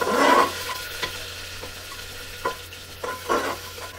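Onions frying in a pan for Odia-style chicken biryani made in a pressure cooker, a soft close sizzle with occasional stirring scrapes and clinks, no voices.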